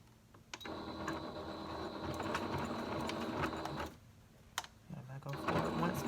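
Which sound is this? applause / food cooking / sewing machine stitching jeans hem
sewing machine stitching jeans hem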